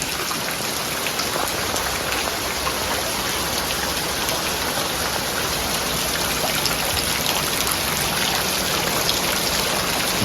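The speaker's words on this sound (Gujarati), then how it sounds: "હજી આ ધીમો પડ્યો છે. અત્યારે વરસાદ" Steady rain falls outside in a Gujarat village, a dense, even hiss of drops on surfaces that holds without pause throughout, close and fairly loud, with no voices.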